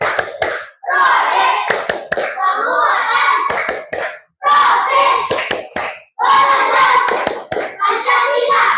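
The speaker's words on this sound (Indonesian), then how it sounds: "Coba semuanya yuk, tepuk semangat." An elementary class performs a rhythmic "tepuk semangat" clapping routine, children clapping in quick patterned bursts with short pauses between rounds, loud and close, with young voices chanting along.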